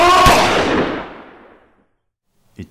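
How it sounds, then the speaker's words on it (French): A single loud gunshot from a 9 mm pistol in a film, a sharp blast followed by a long decaying echo that fades to silence, then a brief faint knock. "J'ai vu l'explosion, la balle partir."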